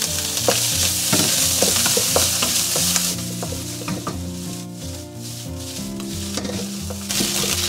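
Diced luncheon meat tossed with preserved mustard greens in lard in a wok: repeated scraping stirs over a busy sizzle, with music playing underneath.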